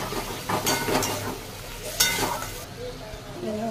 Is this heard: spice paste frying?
yes